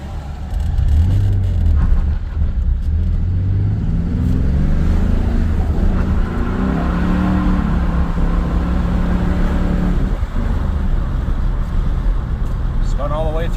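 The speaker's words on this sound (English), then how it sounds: "Spun all the way through second, half throttle." A 1996 Chevy S10 with a 4.3 engine and Holley Sniper fuel injection accelerates hard at half throttle through second gear, its engine droning loud and rising in pitch under a voice over the run.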